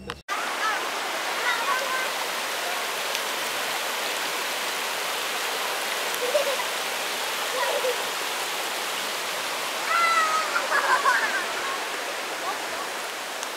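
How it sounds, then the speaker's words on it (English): A waterfall near the Laos border in Thailand: a steady, full rush of falling water roars without pause, loud and close, with faint brief chirps over it. "This is a waterfall somewhere near the border of Laos."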